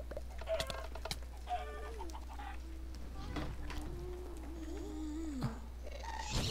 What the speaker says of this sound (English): there's chickens up here for some reason.